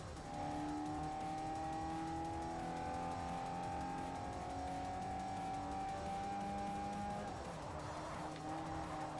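A race car in Forza Motorsport 4 drones at a sustained engine pitch, with tires squealing and skidding on the track and a rise in revs near the end, heard steadily throughout.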